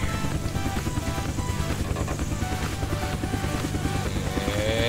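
A helicopter in the video game Unturned gives a loud, steady rotor chop and engine drone that holds constant and close throughout, with no talk.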